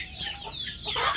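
Kampung chicken hen clucking near her chicks, with thin high peeping from the chicks and a rising burst of chirps at the end, close and moderately loud.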